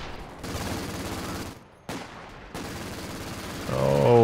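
Double Vickers machine guns blaze in a Company of Heroes 2 battle, dense rapid bursts of gunfire that stop briefly and then start again, loud and close, with a voice rising at the end.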